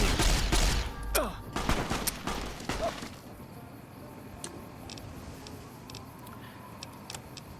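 Rapid burst of video-game gunshots from Fallout: New Vegas, several sharp loud cracks in the first three seconds, then quieter ticking and ambient game noise.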